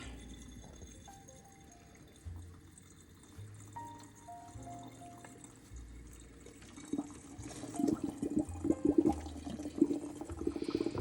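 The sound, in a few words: pouring citric acid cleaning solution with water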